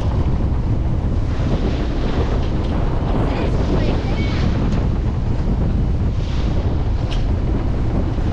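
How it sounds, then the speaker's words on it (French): A sailing boat heads into a strong 23-knot wind over short, choppy waves, with loud continuous wind roar buffeting the microphone and water rushing along the hull, and no break in the noise. "Le vent s'intensifie encore un peu, 23 nœuds"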